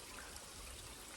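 Spring water trickling at the last water source before a 4,000-foot summit on the Appalachian Trail in New Hampshire, a steady, close, faint broadband wash of running water with no talk.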